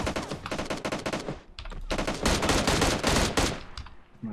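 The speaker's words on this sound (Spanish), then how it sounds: "Disparar por la espalda a una persona cuando corre" Several rapid bursts of automatic gunfire ring out in PUBG Mobile as a running player is shot at, loud and close, with short gaps between volleys.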